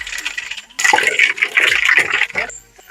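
Mustard seeds dropped into hot oil give a sudden loud burst of spattering and crackling up close that keeps popping for about two seconds, then dies away.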